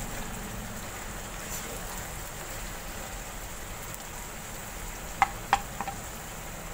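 Radish and spinach (mooli palak) cooking over a low flame, giving a soft, steady sizzle throughout with a few sharp clicks of utensils near the end, and no talking.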